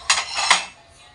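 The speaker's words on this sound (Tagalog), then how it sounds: "maghuhugas na ako na itong mga pinggan" Dishes and cutlery clatter at a sink during washing up, two quick bright clinks close by followed by a short rattling tail and quiet.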